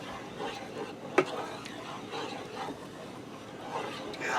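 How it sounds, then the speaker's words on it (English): A spoon stirs salt into marinara sauce for fried mushroom marinara. The stirring is a soft, quiet scrape in the pot, with one sharp clink of utensil on pan near the start. "Stir that in."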